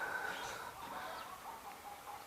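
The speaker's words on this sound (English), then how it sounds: "My chickens say hello." Chickens cluck softly at a distance, a few faint calls over quiet background in a home garage setting.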